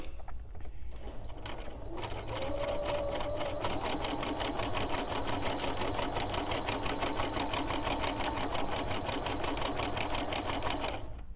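Domestic sewing machine stitching free motion embroidery of handwritten words, running steadily and fast with a dense, even needle rhythm from start to finish, close and alone.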